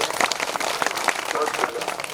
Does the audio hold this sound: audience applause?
yes